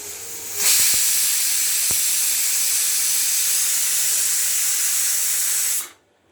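A pressure cooker cooking drumsticks lets out a loud, sustained hiss of escaping steam after a couple of faint clicks, holding steady for about five seconds before cutting off abruptly.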